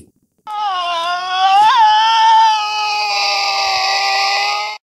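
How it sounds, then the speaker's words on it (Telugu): A Tasmanian devil lets out one loud, sustained screaming call lasting several seconds, a harsh wailing cry that wavers in pitch before fading. "దీని అరుపు నిజంగా ఒక దెయ్యంలా ఉంటుంది"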